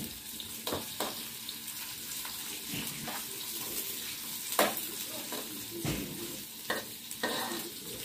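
Tomatoes stirred and cooking in a pan for spaghetti, a steady low sizzle and frying hiss running throughout with repeated scraping stir strokes at irregular intervals, close and moderately quiet, no talk.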